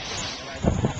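Wind buffeting a microphone during a paragliding flight, a steady broad rush that swells into louder gusts in the second half, close and rough.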